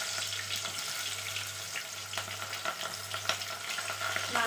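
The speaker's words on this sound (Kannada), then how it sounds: "ಉಳ್ಳಾಗಡ್ಡಿನ ಹಾಕ್ತೀನಿ." Onions frying in a pan for chicken biryani in a home kitchen, a steady close sizzle and crackle with small pops over a low constant hum.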